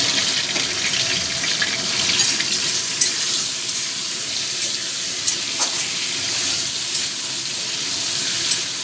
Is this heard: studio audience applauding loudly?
no